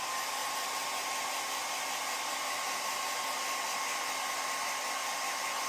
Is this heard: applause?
no